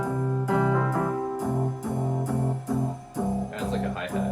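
A Yamaha P121 digital piano plays an accompaniment rhythm variation with a hi-hat pattern: steady repeated chords in an even pulse, clear and close, with light cymbal ticks rising near the end.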